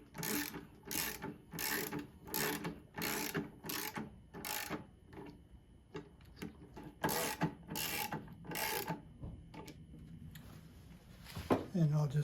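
A ratchet fitted with a 9/32 socket drives a screw into a Stickley 913 dresser, its rapid clicking bursts repeating in a steady rhythm close by, with a person speaking over parts of it.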